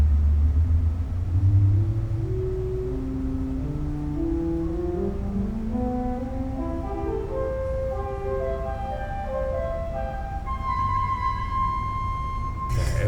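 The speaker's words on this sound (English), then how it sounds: "So in the lower register, you hear the spire flute." A spire flute stop on the 2015 M. P. Rathke Op. 10 pipe organ at Henderson First United Methodist Church plays sustained, slightly growly notes in its lower register, climbing in a slow stepwise line.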